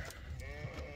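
Sheep bleating in a pen during shearing, a short wavering bleat close by, with faint rustling and hoof sounds underneath.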